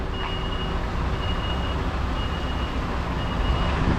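Reversing beeps from a truck with a trailer backing slowly down a street lined with parked cars, the steady pulsed tones ringing out over a constant low diesel engine rumble and road noise.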